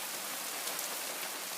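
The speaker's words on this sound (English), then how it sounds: "Yep, it is starting to rain. You can probably hear it." Heavy rain starts falling hard outdoors, a steady dense hiss of drops hitting surfaces, faint and even throughout the short stretch with no other sounds.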